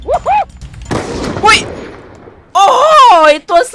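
Gunfire in the battle-royale game Free Fire, with sharp shot bursts near the start and middle, mixed with voiced sounds and a squealing, warbling effect later on.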